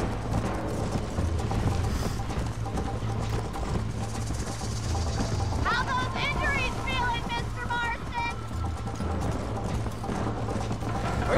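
Horse hooves clip-clopping in the video game Red Dead Redemption, a steady galloping rhythm running throughout under in-game music and background noise.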